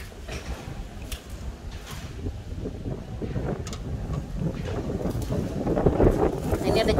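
Strong gusty wind blows outdoors, roaring and buffeting the microphone in uneven rushes that grow heavier toward the end.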